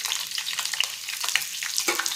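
Ivy gourd (tindora) tipped into hot oil already crackling with mustard seeds and cumin, giving a steady close hiss and sizzle with small pops throughout, no talking.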